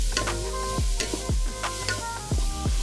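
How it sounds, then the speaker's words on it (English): Onion with a little salt sautés in avocado oil in a Ninja Foodi, a steady soft sizzle broken by several sharp scraping stirs of a utensil against the pot, with no talking. "We're gonna start with the saute. A little avocado oil, onion, a little salt. We just wanna sweat this down for a few minutes."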